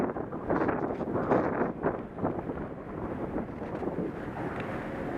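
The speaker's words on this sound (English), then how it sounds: "That got windy, real windy." Gusty wind buffets the microphone at a ski slope on a four-person chairlift ride, a loud, rumbling roar that swells and dips throughout with no speech.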